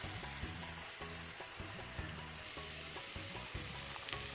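Battered sweet pumpkin flower fritters fry in hot oil, a continuous close crackling sizzle with a regular pattern of low bubbling bursts throughout, no voices.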